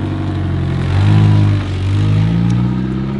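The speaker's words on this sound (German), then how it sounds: "fährt gerade schon mal das nächste Auto warm" A car engine is being warmed up in a workshop where cars are tuned with nitrous oxide, revving hard and steadily in a loud, close, continuous drone with a brief surge in the middle.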